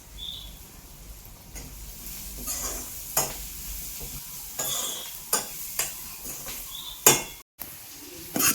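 Ingredients for a roasted masala curry with koorka being stirred and sautéed in a pan, a soft steady sizzle under repeated scraping and clinking strokes of a spoon against the pan, with no talking.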